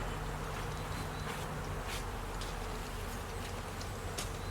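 Honey bees buzz continuously around an open hive during an inspection, a dense, close swarm drone with occasional individual bees flying past.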